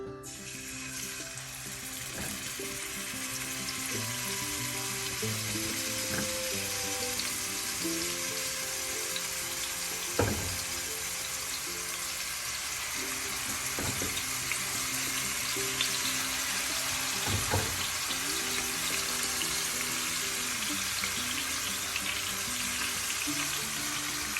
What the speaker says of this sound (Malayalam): നമുക്ക് ഈ സമയം ഇതിലേക്ക് മീൻ കഷ്ണം ഓരോന്നായി പെറുക്കിയിടാം.